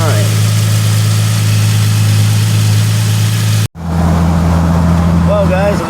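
A 2007 Ford Mustang V6 4.0 with a new alternator idles loud and close with a steady low rumble, briefly cut out for a moment midway before the idle continues.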